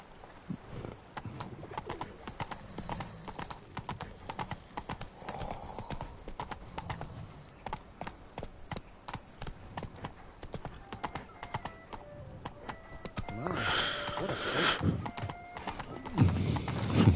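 Roach, a horse in The Witcher 3, gallops with rapid, close clip-clopping hoofbeats throughout, joined near the end by a neigh, with faint birdsong and occasional speech behind.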